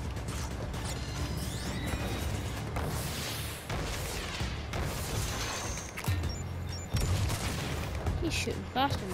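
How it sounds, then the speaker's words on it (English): Rapid gunfire and mechanical clatter from the Crash Bandicoot: Warped video game, with repeated shots, crashes and whirring effects layered into a busy, continuous game soundscape, while a voice talks intermittently over it. "He's shooting fast on me."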